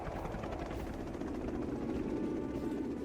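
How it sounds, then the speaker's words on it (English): A Combat Chinook helicopter in a real-time strategy game approaches with a low, thudding rotor drone, steady and moderately faint, with no talk over it. "Combat Chinook is coming in."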